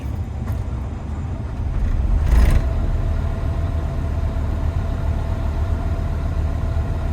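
Car engine idling after a repair, a steady low rumble throughout with a brief louder surge early on and no voices.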